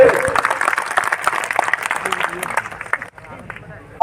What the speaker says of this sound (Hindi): एक बार जोरदार अमृता धवन जी का तालियां के साथ करें।